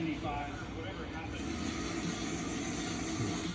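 A car engine roars on a dyno amid a busy show, a loud continuous drone with people talking close by.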